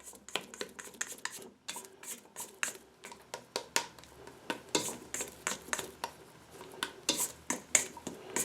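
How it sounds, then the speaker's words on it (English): A rubber spatula scrapes sticky gluten-free pizza dough off the sides of a mixing bowl, giving a run of close, quick scuffs and soft knocks in an irregular rhythm, with no talking. "rubber spatula really helps you get everything off the edges there"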